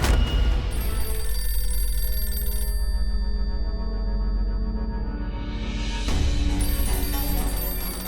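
A telephone rings loudly in a scene from a Hindi TV drama, a bright electronic ring that pauses briefly and then resumes, with a sweeping musical effect rising through the gap.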